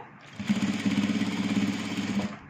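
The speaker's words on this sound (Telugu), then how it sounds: "ఈ ఎడ్జ్లో కుట్టు వేసుకుంటాము." A sewing machine stitches along a fabric edge in a quick steady run of about two seconds, close and fairly loud, with a rapid rhythmic mechanical thrum that starts and stops abruptly.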